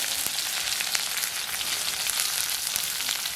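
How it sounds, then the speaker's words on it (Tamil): Oil sizzles and crackles steadily as mustard seeds and onions fry for a spicy cassava snack, with scattered pops and spits throughout, close by and without talking. "நம்ம இதுக்குள்ள எண்ணெயை விடுவோம். கடுகு போடுவோம். இதில் வெங்காயத்தை போடுவோம்."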